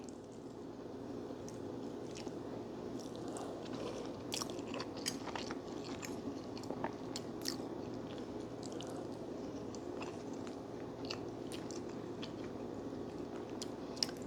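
Someone eats Jamaican-style steamed snapper fish close to the microphone, with continuous soft chewing, wet squishing and small crunchy bites running through the whole stretch, no talking.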